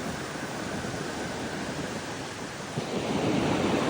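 Ocean waves break on a beach at Albufeira, Portugal, a loud continuous surf roar with wind buffeting the microphone, swelling louder near the end as a new wave rolls in.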